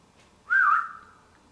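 A single short whistle rings out clearly, a brief rising-then-falling note against near silence.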